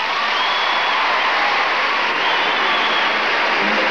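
A steady wash of crowd applause fills the arena after a men's gymnastics routine at the 1998 Goodwill Games, dense and even from start to finish with no clear pauses.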